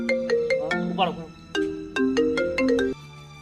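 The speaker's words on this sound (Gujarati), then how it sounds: "ફોન આવ્યો" A phone ringtone plays a bright repeating melodic tune of short beeping notes for about three seconds, close and clear, with a brief voice partway through.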